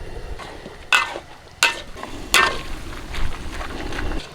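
Sharp metallic scrapes of a spatula against a wok over a low sizzle, a few distinct strokes in quick succession, as chicken is stir-fried over high heat with a little oil.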